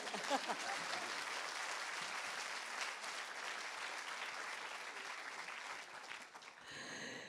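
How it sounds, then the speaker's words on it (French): An audience at a public-speaking masterclass applauds steadily for several seconds, a dense even wash of clapping from a room full of people that fades out near the end, faint overall. "On l'applaudit bien fort"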